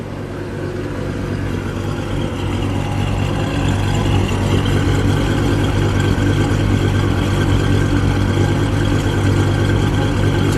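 A 1953 Buick Skylark engine idles steadily and smoothly, a loud, even low rumble that holds without revving for the whole stretch.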